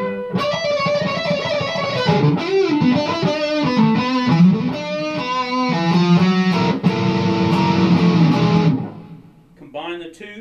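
Electric guitar with heavy distortion played through the front single coil pickup of a Squier '51 Black Beauty, sustained ringing chords and notes close and loud, then a brief quieter tail.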